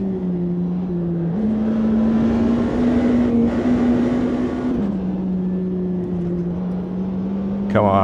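McLaren Senna supercar with roughly 800 horsepower racing in Automobilista 2, its engine holding a steady loud drone that rises and drops with shifts, continuous and close throughout.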